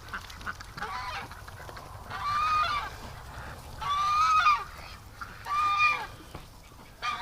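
Domestic ducks honk and quack in three loud, drawn-out bursts separated by short pauses, close by outdoors near bushes, with no talking over the calls.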